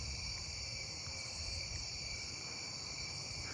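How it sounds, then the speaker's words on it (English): Davis's tree crickets trill in dense vegetation at night, a faint continuous high buzz within a layered insect chorus, with soft low rumble underneath and no voices. "Davis's tree crickets I'm hearing."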